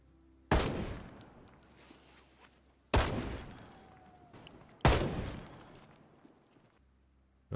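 Three loud, sharp shotgun or rifle blasts from NPCs in the Project Zomboid video game, roughly two seconds apart, each ending in a long fading tail, with no voices over them.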